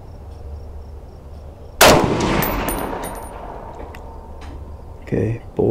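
A single loud, close shot from an Armalite Super Sass .308 rifle fired at a target cracks sharply and rings out in a long decaying echo, followed by faint clinks and handling noise.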